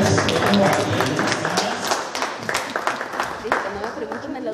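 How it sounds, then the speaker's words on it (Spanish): Studio audience applauding during a Spanish-language variety TV program, dense clapping filling the clip with a host's voice talking over it. "Fuerte el aplauso"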